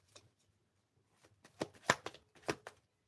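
Tarot cards being shuffled by hand, a few soft riffling and flicking bursts clustered in the second half, close and quiet with near silence before.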